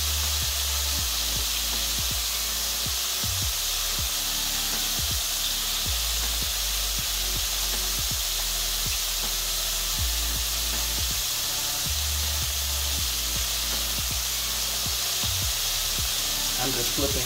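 Shrimp fry in hot oil for a Southern-style crispy fried shrimp recipe, giving a loud, continuous sizzle and hiss with intermittent low clatters, and a voice talks over it.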